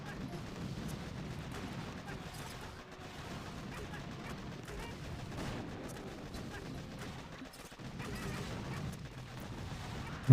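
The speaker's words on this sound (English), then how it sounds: "Steam cannons are actually doing a lot of damage though to my mechs." Steam cannons in Boom Beach pounding at attacking mechs, a busy mix of dull booms and gunfire over low rumble with a person talking throughout.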